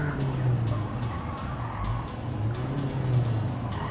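Toyota C-HR with a CVT gearbox driven around Dragon Trail Gardens in Gran Turismo 7: a close, droning engine note holds a nearly constant pitch throughout, with light road and tyre noise underneath.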